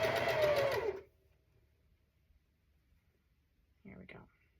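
A sewing machine stitches a quilt in a quick close whirring run at the start, then goes quiet before a short second burst of stitching.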